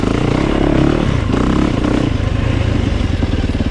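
A 2020 Yamaha YZ450FX dirt bike fitted with a Rekluse clutch, ridden up close: a loud, steady four-stroke engine drone with slight rises in revs and rattly clatter throughout, no talk.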